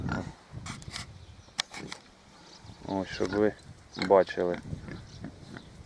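Mangalica pigs grunt and snuffle close by in short bursts, with someone talking over them.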